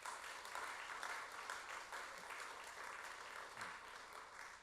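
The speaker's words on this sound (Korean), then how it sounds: "이분들이 우리 교회의 유치부를 담당하고 계시는 교사들이신데 박수 한번 하겠습니다." Church congregation applauding the kindergarten teachers, a faint, steady wash of clapping that continues evenly with no voices over it.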